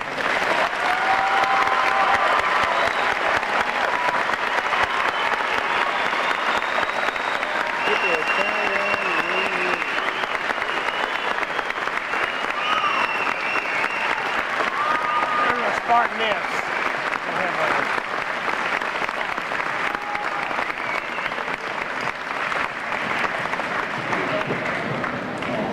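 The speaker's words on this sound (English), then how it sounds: "a round of applause." A high school graduation audience for the Class of 1997 claps in steady, dense applause that holds for the whole stretch, with faint voices underneath.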